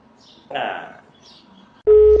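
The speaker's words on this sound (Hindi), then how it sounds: "आपका फोन बज रहा है, टिडिंग टिडिंग बोल रहा है कब से।" A mobile phone rings during a prank call to a doctor, a loud steady electronic tone near the end after a burst of muffled talk.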